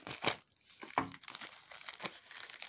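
An AliExpress parcel package being torn open by hand, with sharp crinkling and ripping bursts of plastic wrapping, close and fairly quiet, separated by brief pauses.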